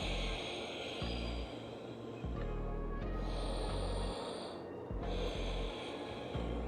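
Slow, deep breathing while holding child's pose during a post-workout cool-down stretch: several long, close inhales and exhales in an even rhythm, with no talk.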